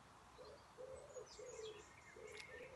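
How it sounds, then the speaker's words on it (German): Pigeons coo in a soft, repeated rhythm while other birds chirp and whistle more thinly above them, all faint and distant against a quiet outdoor background. "Außer den Tauben und Vögeln, die im Hintergrund zu hören sind"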